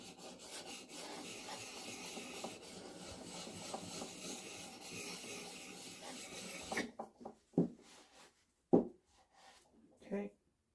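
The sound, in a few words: chisel being sharpened flat on a coarse stone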